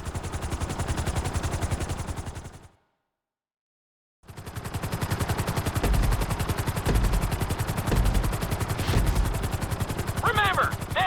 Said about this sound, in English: At the end of the course, you'll be required to safely land your helicopter.